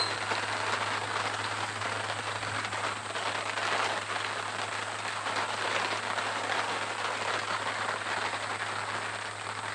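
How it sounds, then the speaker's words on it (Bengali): Heavy rain pours steadily, a dense continuous hiss of drops drumming on surfaces throughout, with a low steady hum underneath. "বৃষ্টি হচ্ছে প্রচুর"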